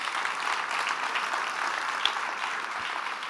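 A church congregation applauds during a worship service, a continuous, even roar of many hands clapping throughout, close and fairly loud.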